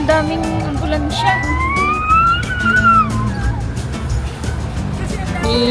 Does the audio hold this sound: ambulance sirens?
yes